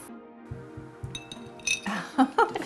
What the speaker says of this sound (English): I actually have a glass of bubble water handy, and I'm gonna put my ice cubes in it